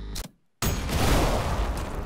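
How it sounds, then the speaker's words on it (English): A pistol shot snipes a core eject in the shooter game ULTRAKILL, setting off a loud red explosion: a short crack, a brief drop to silence, then a heavy, sustained blast roaring close for over a second. "You can amplify core ejects by sniping them with a pistol, resulting in 7 damage and a red explosion"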